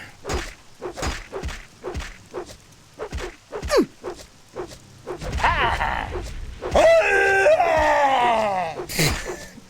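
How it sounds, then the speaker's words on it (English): A character in The Elder Scrolls III: Morrowind screams during combat: a run of thuds and grunts gives way to a loud, drawn-out wavering scream in the last few seconds, close and harsh. "God, the fucking scream noise."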